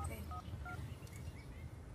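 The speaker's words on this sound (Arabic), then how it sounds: "انا بطلبك يا غادة، عايز اعرف النمرة." Telephone dialing tones as a number is entered on a phone, several short spaced beeps, faint beneath a low background hum.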